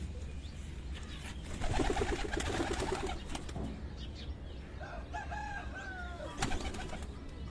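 Young pigeons coo softly and steadily on a rooftop loft, with a rooster crowing in the background and a constant low outdoor hum underneath.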